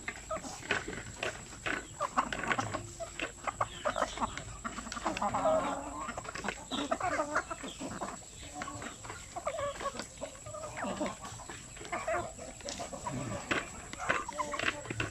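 Native Sampen chickens penned together cluck and call steadily, a busy flock close by with overlapping bursts of clucking and no talking.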